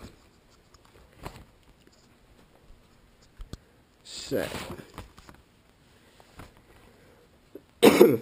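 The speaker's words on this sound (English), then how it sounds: "now I'm gonna have a little bit of a cough" Two short bursts of coughing, the second louder and harsher, close to the listener with quiet gaps and a few faint clicks between them.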